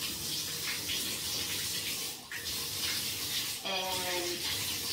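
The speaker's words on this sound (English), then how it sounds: "Okay, so we're gonna turn on our water." Tap water runs steadily into a tub for a pug's bath, a continuous broadband rush with a brief splash change midway, fairly close and alone.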